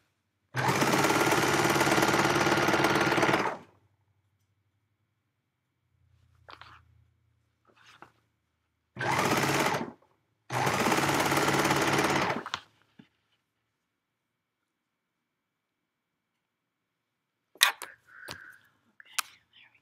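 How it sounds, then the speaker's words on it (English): Serger stitching and trimming fabric for a Yup'ik qaspeq, three loud rapid bursts of whirring machine stitching separated by quiet pauses, with soft handling noises and faint clicks between runs. "my serger kind of cuts and goes along the way"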